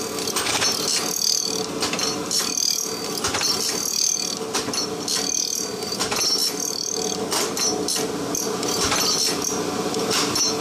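An Abrasive Machine Tool Co. Model 3B surface grinder runs off a VFD at about 55 Hz, giving a steady, continuous mechanical whir with rapid ticking and rattling detail throughout, close and fairly loud, with no voices.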